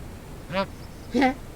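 Goose in the video game The Forgotten City giving two short nasal honks, close and clear against a quiet background.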